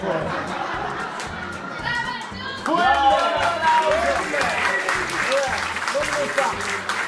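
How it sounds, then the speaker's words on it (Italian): Audience applause fills the room, a steady wash of clapping that swells louder partway through and continues with crowd chatter underneath. "Un applauso a Giusy e a tutti i suoi colleghi dell'ente bilaterale"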